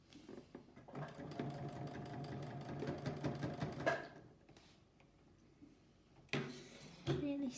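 A sewing machine stitches a children's tote bag in bursts of rapid, steady needle chatter, stopping and restarting with short runs, while voices talk nearby.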